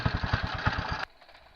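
A homemade buggy engine idles with a rapid, even, chugging putter, close and loud for about a second before cutting off abruptly and leaving quiet.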